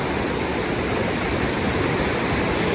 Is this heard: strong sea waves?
yes